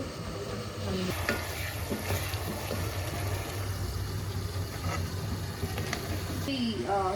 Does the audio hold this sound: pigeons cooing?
no